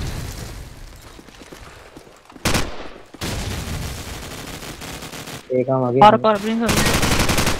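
Video game gunfire, with scattered rapid bursts and loud shots over background game noise, along with brief speech and a tonal sound effect near the end.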